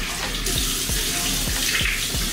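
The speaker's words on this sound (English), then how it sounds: "Put a little dab of water on my face," Tap water runs steadily into a sink, with small splashes as water is cupped and dabbed onto a man's face to wet it before washing with cleansing gel; continuous close flow with faint rhythmic low thumps.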